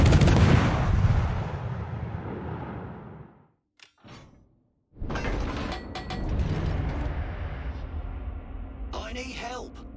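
World of Warships naval guns thunder loudly at the start and again after a brief near-silent pause, heavy booming salvos with mechanical clanks, partly under a voice.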